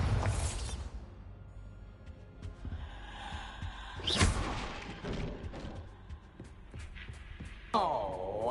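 The Bombarda blasting spell in the video game Hogwarts Legacy lands as a booming explosion, with a loud burst at the start, another heavy impact midway and a rumbling magical swell at the end amid game ambience.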